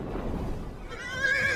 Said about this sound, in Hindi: अथर्व को घोड़े पर सवार देखकर